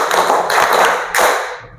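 A class group claps together in short, loud bursts of synchronized claps, then the sound fades away.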